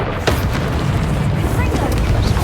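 A Confringo fire spell exploding in Hogwarts Legacy, a loud sustained rumbling boom that fills the whole moment, with a voice over it.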